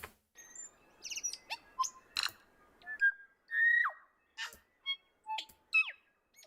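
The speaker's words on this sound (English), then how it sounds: "It's someone's freaking pet bird." A pet bird squawks and whistles in short, scattered bursts: bright chirps, sliding whistles and a few harsher squawks, close and clear against a quiet background.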